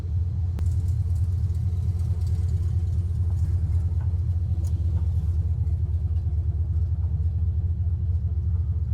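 A 1972 Chevrolet C10 pickup rolls out under its own power, with a steady low engine rumble that stays loud and constant from start to finish and has no talking over it.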